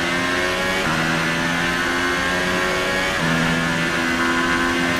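Race car engine in the F1 2018 video game, a continuous high-pitched drone with gear shifts and rises in revs, loud and steady with no talk.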